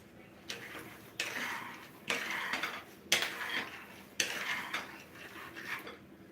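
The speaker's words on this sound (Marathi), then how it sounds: "तर हे बघा, इथे माझे हे शेंगदाणे भाजून झाले. हलकेसे आवाज पण येतोय तुम्हाला" Dry-roasting peanuts for peanut ladoo rattle and scrape across a pan in about five close, bursty stirring passes separated by short quiet gaps, with no talking.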